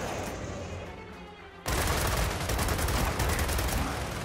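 Gunfire in the video game Gears of War 4 on an insane co-op campaign erupts suddenly after a quieter stretch, a loud, sustained barrage of rapid shots and impacts that continues to the end.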